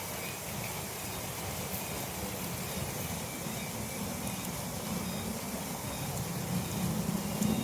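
Rain falls steadily by the Kali Baru waterway in Tambun, a dense, even hiss of drops on surfaces that swells slightly toward the end, with no speech.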